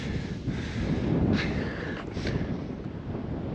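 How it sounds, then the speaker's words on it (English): Gusts of wind buffet the microphone near a secluded desert beach, rising and falling in soft, rushing swells with no voices. "A little bit of wind picking up now"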